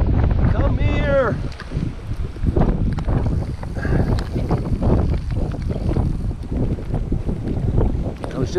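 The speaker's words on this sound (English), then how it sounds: "It's really windy and rainy" Strong gusty wind with rain buffeting the microphone in a continuous roar, with brief voices and water sounds underneath, while fishing outdoors.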